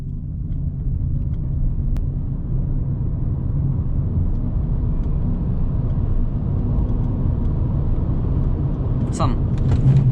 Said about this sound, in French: sur cette petite ligne droite, on se fait un petit 0 à 100 et on vérifie également l'efficacité du freinage